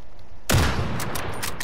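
Call of Duty: Modern Warfare gunfire erupting suddenly after a brief quiet, a loud close burst of rapid shots that rings on for over a second.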